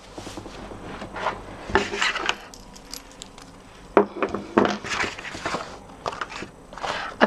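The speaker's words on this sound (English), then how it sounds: "I've burnished all the folds" Bone folder burnishing scored paper folds for a Stampin' Up! partitioned box, heard as close, uneven rubbing and scraping strokes with a few sharper taps on the tabletop, no talking.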